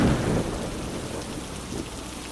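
Steady rain falls with a low thunder rumble, strongest at the start and then settling into a softer, even patter of rain all the way through.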